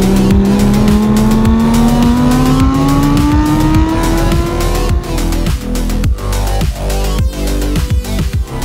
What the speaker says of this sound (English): It sounds like a Formula 1 car